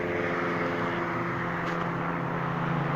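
A helicopter flying over a city boulevard, heard as a loud, steady droning roar with a humming tone that holds throughout without breaks.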